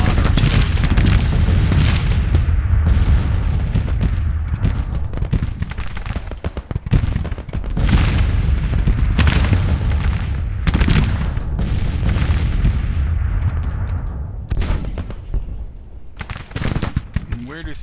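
Cannon and small-arms fire from a Civil War battle at Shiloh in the strategy game Grand Tactician: The Civil War. The booms and crackling volleys are loud and dense, running almost without a break and with brief lulls between bursts.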